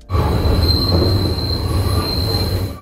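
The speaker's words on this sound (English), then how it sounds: "there are sharp corners on the subway network on Line 1 as well, and squealing metal wheels" Metal wheels of a Toronto Line 1 subway train squeal loudly through a sharp curve, with a sustained high-pitched screech over a steady rumble of rolling cars.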